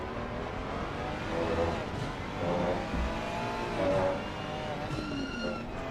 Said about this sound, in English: that Mustang just outpowers the Ferrari